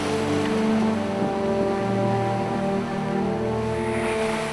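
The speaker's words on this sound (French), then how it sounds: "Les lames sont grosses comme des sommets enneigés. Le vent dépasse les 40 nœuds." At sea aboard a sailboat, wind above 40 knots and big breaking waves make a loud, unbroken roar with howling, whistling tones running through it and no speech.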